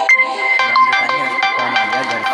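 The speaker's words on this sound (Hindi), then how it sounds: "फोन आ गया घर" A mobile phone rings with a call from home: a loud, close electronic ringtone melody plays continuously with bright, steady tones and short rhythmic notes throughout.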